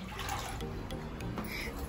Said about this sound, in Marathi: साडेतीन तांबे आईने पाणी ओतले ह्याच्यामध्ये